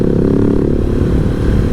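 A KTM SMC 690R single-cylinder motorcycle gives a short, punchy throttle blip in first gear while filtering through traffic, a loud close thumping bark lasting under two seconds.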